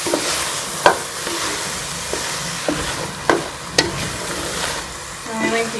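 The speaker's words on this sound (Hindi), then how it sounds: "घी डाल के इसे अच्छी तरह से भून लेंगे।" Grated ash gourd for halwa frying in ghee in a pan, a constant soft sizzle broken by several sharp spoon scrapes and knocks at uneven intervals.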